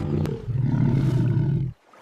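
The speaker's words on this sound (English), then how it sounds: "Roar! Look at the red lion." A lion roar sound effect from a children's learning video: one loud, rumbling roar lasting under two seconds, then cutting off abruptly into near silence.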